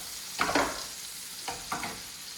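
Fish sears in a hot pan with a soft constant sizzle, broken by two bursts of louder scraping and spattering as it is stirred or moved.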